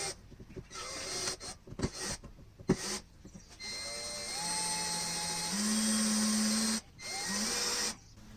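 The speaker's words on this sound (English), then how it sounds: "so this one is a 5/32 drill bit." A power drill with a 5/32 bit bores into the door of a 2009-2010 Hyundai Sonata, high whining bursts broken by short pauses, then longer steady runs with the pitch shifting under load.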